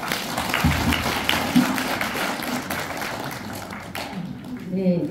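Audience applause for a lecturer at a talk on family conversation habits, a dense patter of clapping that runs steadily for several seconds and fades out near the end.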